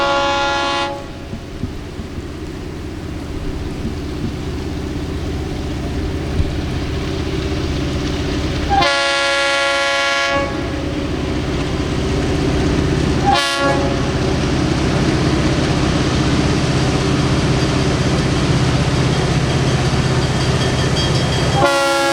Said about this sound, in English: The single GP38 sounded awesome, and I couldn't resist one more roll-by near DuPont.